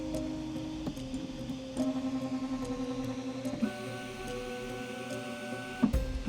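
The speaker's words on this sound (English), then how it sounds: "I want you guys all to take a look at the way that this printer homes." A custom-built 3D printer's stepper motors whine in steady tones that shift pitch as the axes move while homing, with a couple of sharp clicks; no talking.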